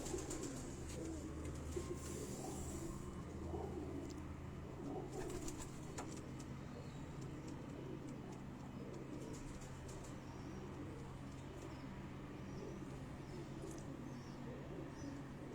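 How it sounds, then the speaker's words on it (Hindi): Sialkoti flying pigeons coo from a rooftop in Rawat, Islamabad, a soft continuous low burbling mixed with wing flutters and faint outdoor background noise. "ये जो कबूतर आप अभी देख रहे थे, ये उनके परवाज़ी कबूतर हैं"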